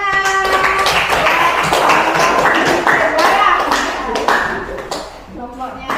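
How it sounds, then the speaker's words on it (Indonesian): A school class applauds in a brisk burst of clapping, with voices speaking over it and the clapping thinning out toward the end. "Ya, tepuk tangan."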